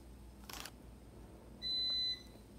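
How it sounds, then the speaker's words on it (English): A single sustained electronic beep sounds from a small gadget, preceded by a short faint clatter, in an otherwise quiet room. "Sorry for the beeps in the background."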